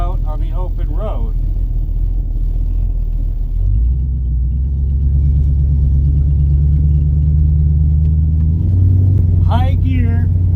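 A car engine on an open road gives a deep, steady rumble up close and loud, shifting slightly in pitch midway, with someone talking over it at the start and end.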